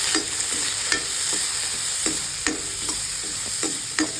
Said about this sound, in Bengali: আমরা কাজু বাদামগুলো দিয়ে ঘিয়ের মধ্যে ভেজে নেব।